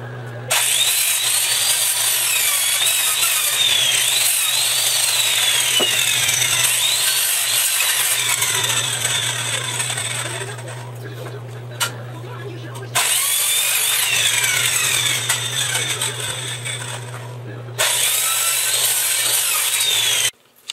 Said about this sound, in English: Saw them up with skill saw